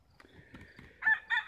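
Roosters in a backyard flock calling, with quiet low clucking and shuffling before two short, louder raspy crowing bursts close by near the end.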